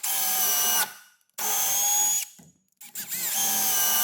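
A Milwaukee power drill whirs in three short bursts, each a steady high-pitched motor whine, separated by brief pauses, close and clean with no talking.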